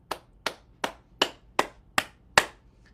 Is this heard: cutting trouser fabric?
no